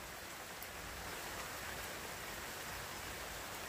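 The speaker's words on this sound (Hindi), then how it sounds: "जोरदार बारिश हो रहा है उधर" Heavy rain pours steadily in a dense, even hiss with no pauses and no voices.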